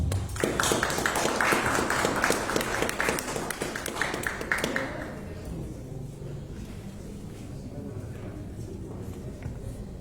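An audience applauds at a historical presentation in San Agustín Curambatio with a burst of brisk clapping that fades after a few seconds into quieter room murmur, with talking underneath.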